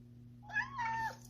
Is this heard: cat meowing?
yes